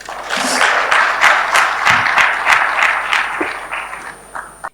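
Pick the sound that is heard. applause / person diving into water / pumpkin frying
applause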